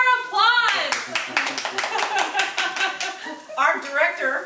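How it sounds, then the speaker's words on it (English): A small group claps in a bright, distinct burst of individual hand claps, with voices talking at the start and the end. "Where's our applause?"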